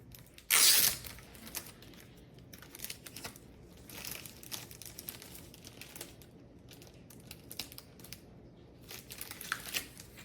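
An Upper Deck hockey trading card pack is torn open with a sharp, loud rip near the start. Softer crinkling and rustling of the foil wrapper follow, close up and in scattered bursts.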